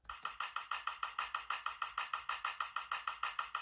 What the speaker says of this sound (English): Our 808 loops sound a lot like castanets